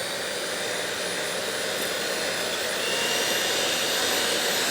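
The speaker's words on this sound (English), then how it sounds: "And we're going to put on the mixer." An electric mixer fitted with a whisk attachment beats a sugar mixture, giving a steady, loud, continuous whirring drone that holds level throughout with no talking.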